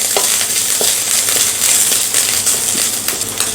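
Chopped ginger and green chili sautéed in a pan: a loud, close, continuous sizzle with repeated scraping strokes and small clinks from the stirring utensil.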